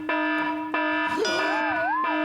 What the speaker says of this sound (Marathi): मोठा अलार्म वाजला.